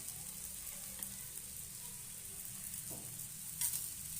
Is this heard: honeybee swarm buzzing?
no